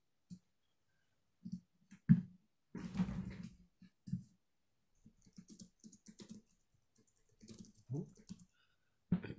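Someone types on a computer keyboard in bursts of quick, close clicking keystrokes separated by short pauses, with a few louder key taps standing out.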